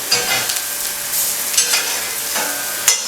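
Mushrooms roasting in a hot pan give a close, steady sizzle, broken by several sharp scrapes and clacks as they are stirred; no one speaks.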